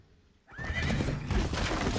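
A horse neighs loudly in the Naraka: Bladepoint video game, a rising whinny that starts abruptly after a quiet moment, with clattering hoof-like sounds and game noise filling the rest.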